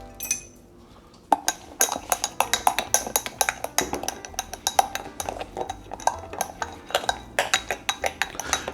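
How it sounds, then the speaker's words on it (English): A spoon clinks rhythmically against a glass as sugar is stirred to dissolve into homemade sugar-free Kahlua-style coffee liqueur, with quick, bright, close taps that keep going after a quiet start. "I'm just gonna stir that up until it's all dissolved."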